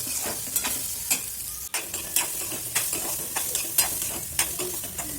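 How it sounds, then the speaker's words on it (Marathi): Moth beans (matki) dry-roasting in a little oil in a pan, a close crackling sizzle punctuated by frequent rhythmic scrapes and taps of a spatula against the metal, no talking. "थोडं तेल टाकून भाजून घेतली, कारण तिच्यामध्ये जो उग्र वास, कचरट स्मेल असतो तो निघून जाण्यासाठी मी भाजून घेते"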